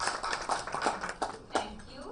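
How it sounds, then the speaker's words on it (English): Guests clapping for the bride at a wedding reception, a loose round of scattered claps with irregular sharper hits, heard mixed with murmuring voices. "Let us all give her a big round of applause"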